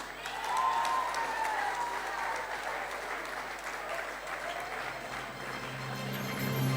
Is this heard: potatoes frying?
no